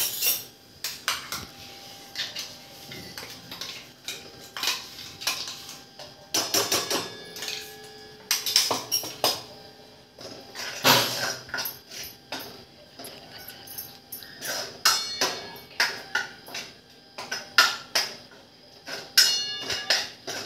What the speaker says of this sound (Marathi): आता हे वाटण याच्यात करपून घेऊ